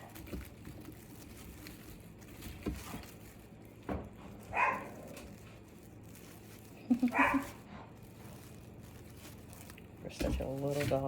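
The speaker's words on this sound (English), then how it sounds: "For such a little dog, there's a lot of bite and bark." A small dog barks at a mailman in a home, with a few sharp yaps and short bursts heard over nearby talking and the crinkle of wreath-making materials.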